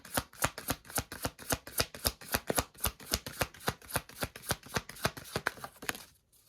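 Cards are shuffled and drawn in a fast, steady run of crisp snapping flicks, close and clear, continuing for several seconds before stopping abruptly.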